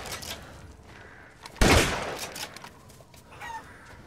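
Chickens cluck and squawk in the Resident Evil Village video game, with a sudden loud burst partway through, then scattered flapping and clucking that fades over faint background ambience.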